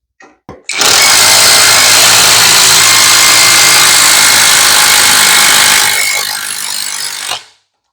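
An impact driver with a 4mm hex bit drives hardware into a boat: a couple of short bursts, then a loud, continuous hammering whir for about five seconds that eases slightly before stopping.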